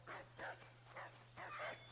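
A dog barks in the Assassin's Creed game homestead, a few quiet, evenly spaced yaps over a steady low hum, with no talk over them.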